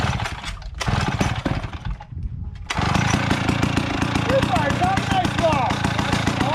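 A revived Pioneer 650 chainsaw runs close by, buzzing in short bursts at first and then holding a loud continuous roar. A voice speaks over the engine.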